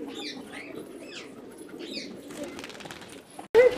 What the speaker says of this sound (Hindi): चेक करें कबूतर माशाल्लाह कितना हसीन कबूतर